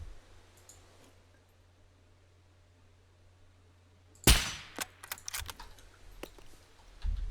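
Bursts of gunfire from the video game SCUM, a sharp loud onset followed by a rapid string of cracking shots and a few scattered later reports over a quiet background hum.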